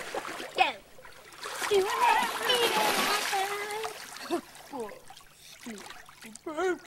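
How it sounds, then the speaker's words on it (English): Splashing lake water as people wade in from a canoe, sloshing steadily for several seconds while children and adults chatter and shout over it. "David, let's go in the water right here."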